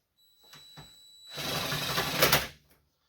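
A motor mount bolt on an Acura TL is run in with a tool, giving a short rapid mechanical whirring burst after a couple of faint clicks, close and fairly quiet.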